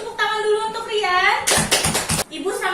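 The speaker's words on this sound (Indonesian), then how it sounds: "Beri tepuk tangan dulu untuk Rian." Students in a classroom clap for a classmate named Rian, a short burst of applause lasting under a second, heard right after a teacher speaks, with a voice following.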